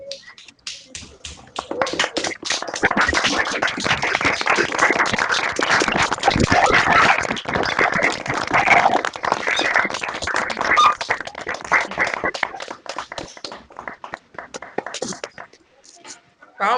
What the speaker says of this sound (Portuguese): eu queria sugerir de todo mundo abrir o microfone e bater palma